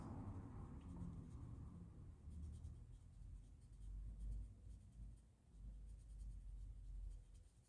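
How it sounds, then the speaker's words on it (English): Graphite pencil shading on paper around the petals of a drawn broken rose, a steady scratchy rasp of close strokes that swells and fades in rhythm without pause, heard alone. "I'll add some pencil around all the petals and the broken rose."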